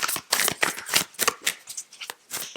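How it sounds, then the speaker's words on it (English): New, stiff tarot cards are shuffled close up, a rapid series of papery riffles and flicks in uneven bursts, with no talking. "They are new, so they're a little hard to shuffle."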